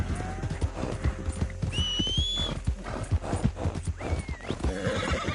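Hooves clip-clop steadily over background music in Red Dead Redemption 2, with a horse whinnying in the middle and a whistle-like tone near the end.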